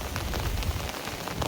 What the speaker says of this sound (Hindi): पूरा भयंकर वर्षा पूरा